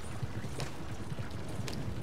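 Horse in the video game Red Dead Redemption 2 clip-clopping along: soft, regular hoofbeats in a steady walking rhythm, faint under a low ambient wash.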